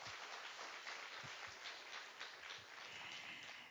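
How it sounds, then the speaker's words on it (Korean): Conference audience at the 2018 Tech Plus Jeju event applauds the keynote speaker, a steady wash of many hands clapping, recorded faint and distant without talk over it. "앞서서 또 기조 강연으로 문을 열어주신 원희룡 도지사님께도 다시 한번 큰 박수를 부탁드리겠습니다"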